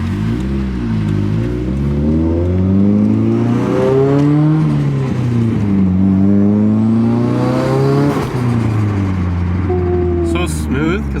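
Nissan Silvia engine revving while driving, rising and falling exhaust tones through the RPM range heard from inside the car, loud and continuous with brief speech over it.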